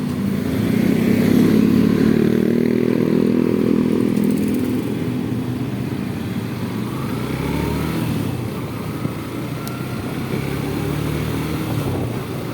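Motorcycle tricycle engine running continuously while driving, loud and close at first, with a throaty drone that eases down and then holds steady with small shifts in pitch.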